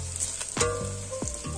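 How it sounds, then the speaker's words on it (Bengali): Onions and meat sizzle in a pan over a wood-fired clay stove, a steady frying hiss broken by a few sharp bursts as ingredients are stirred or added. "পেঁয়াজটা ভাজা ভাজা হয়ে গেছে, এখন মাংসটা দিয়ে দেবো।"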